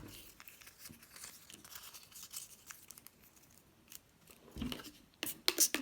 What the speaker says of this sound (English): So just finish scrunching these up.